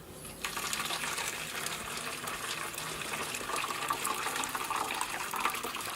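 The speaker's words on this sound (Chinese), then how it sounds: "加入开水" Boiling water is poured from a kettle onto fried seasoning in a bowl, starting with a quick splash and then settling into a steady, close gushing pour that lasts throughout.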